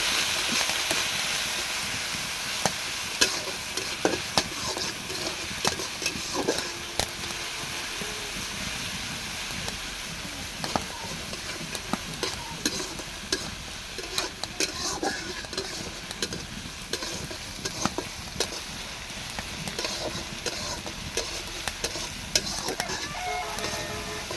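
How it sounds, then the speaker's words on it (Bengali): Onions and green chilies fry in mustard oil, giving a steady close sizzle with scattered clicks and scrapes of stirring throughout, no voices. "পেঁয়াজটা বেশি ভাজা করব না, অল্প ভাজবো।"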